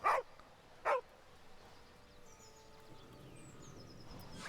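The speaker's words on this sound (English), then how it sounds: "Pet the dog." A dog in the Baldur's Gate 3 video game gives two short, sharp barks at the start, followed by quiet game ambience with faint tonal sweeps.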